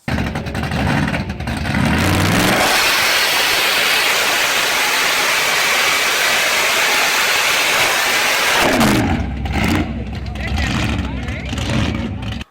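A 1971 Chevelle SS454 with a big-block engine roaring at full throttle at a drag race, loud and close for several seconds between quieter stretches of engine idle and rumble.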